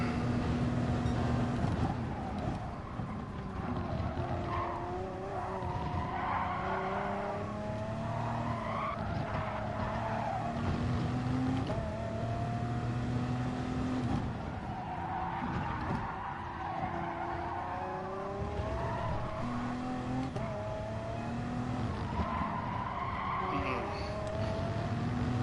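A race car in a driving video game, screeching tires skidding repeatedly through curves over a continuous engine drone, loud and sustained with wavering squeals rising and falling.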